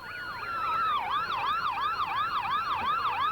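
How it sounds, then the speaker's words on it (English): Wailing emergency vehicle sirens sweep up and down in repeated rising and falling cycles, loud and close, during the 1999 Swine Festival parade, with faint road noise beneath. "Let's pick up those sirens"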